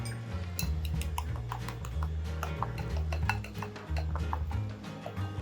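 A spoon stirs and clinks against a bowl as mixed spices are worked together for chicken tikka, giving a steady scraping rhythm with scattered bright taps over a low, constant background hum.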